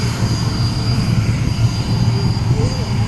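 SEPECAT Jaguar jet flying at the RAF Cosford airshow, a steady broadband engine roar with a low rumble and a thin high whine, continuous and fairly loud throughout.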